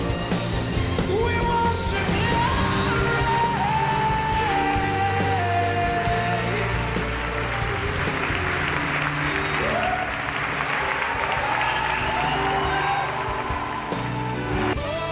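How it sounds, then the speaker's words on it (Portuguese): Congregation in a Portuguese-language church service giving the Lord strong applause, sustained clapping and cheering from a crowd over continuous organ-like music, loud and unbroken throughout. "Podem dar um forte aplauso para o Senhor."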